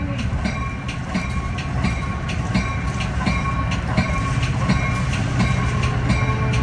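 A Metra Union Pacific North Line commuter train rolls into a Chicago station, with steady rumbling and rhythmic clickety-clack of wheels over rail joints, loud and close throughout.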